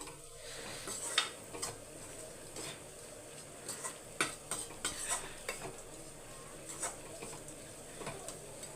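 Batter being mixed by hand in a bowl while water is poured in bit by bit for festival cooking: soft wet squelching and stirring with light clinks, close and quiet, no talk.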